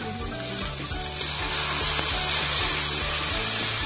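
Onions and tomatoes sauté in a pan for mushroom biryani, giving a steady loud sizzle with a low rhythmic tapping pattern underneath that grows slightly louder.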